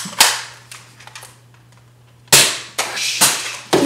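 A Nerf Maverick toy blaster snaps out a series of sharp plastic pops, one clear shot, a few faint clicks, then several quick loud shots in succession against a low steady hum.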